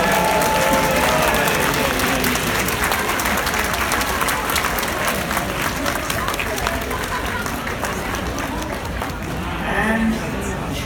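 A large audience at a Diwali celebration at Gracie Mansion, New York City, breaks into loud, continuous applause with scattered cheers, sustained for several seconds with dense overlapping claps.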